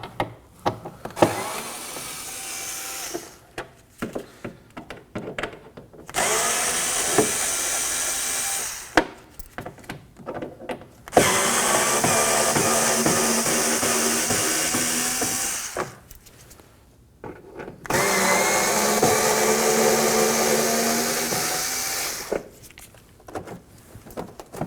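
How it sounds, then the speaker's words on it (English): A power tool backs out four Phillips screws holding the mud flap on a 2014-2020 Acura MDX. It gives several loud, close whirring runs a few seconds each, separated by quieter handling clicks. "we're going to remove this mud flap by removing these four Phillips screws"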